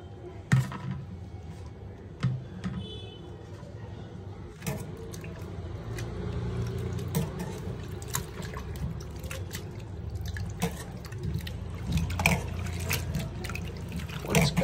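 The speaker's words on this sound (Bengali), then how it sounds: "মানে শাক ধোয়া জল ঝপঝপা পরিষ্কার হলো" Tap water runs and splashes steadily while leafy greens are washed for a vegetarian dish, with dripping and trickling up close and a voice faintly in the background.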